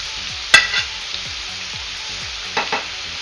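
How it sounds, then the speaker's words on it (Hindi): Potato pieces deep fry in hot oil over medium-low flame, giving a steady, close hiss and sizzle with a few sharp clinks of stirring utensils. "हम आलूओं को डीप फ्राई करेंगे।"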